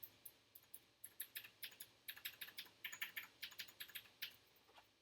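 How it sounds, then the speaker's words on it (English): Rapid typing on a mechanical keyboard with Cherry MX Blue clicky tactile switches, each keystroke giving a sharp, crisp click in a quick, uneven rhythm, close and alone with no voices. "This is a Cherry MX Blues, and you'll be able to hear this."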